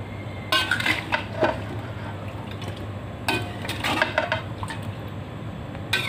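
Spices being stirred in a cooking pot over the flame while chicken for ayam kremes is prepared: a few scraping, clinking utensil strokes against the pot in two bursts over a steady low stovetop hum, with no talk.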